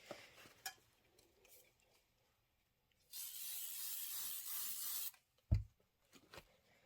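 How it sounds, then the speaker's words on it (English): Spray adhesive is misted onto quilt batting in one steady hissing burst of about two seconds, close and fairly quiet, framed by soft rustling and a brief thump of handling. "So spray your batting."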